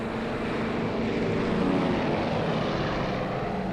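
A propeller airliner on Reeve Aleutian Flight 8 in 1983 climbs away after takeoff, its engines a loud, steady, dense roar throughout, without speech.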